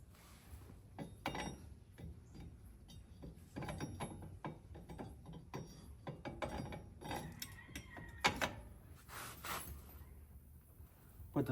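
Lug nuts are threaded back onto a wheel of a Chevy Box with a universal adapter, producing repeated light metallic ratcheting clicks and rattles at close range over a steady low background.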